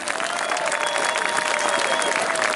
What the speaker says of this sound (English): What's a big round of applause for Nissa?